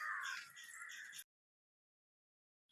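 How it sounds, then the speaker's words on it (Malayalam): Crow cawing nearby in a single loud, harsh burst lasting about a second, followed by silence and a brief faint return at the end. "നമ്മള് കാക്കയെ കണ്ടോണ്ടിരുന്നപ്പം"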